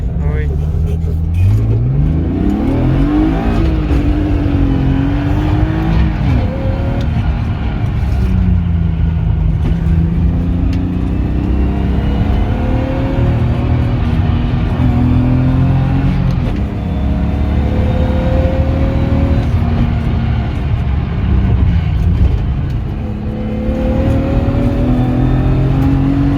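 A BMW E36 drift car drives and revs, its engine note rising and falling steadily and loud throughout, with people talking over it.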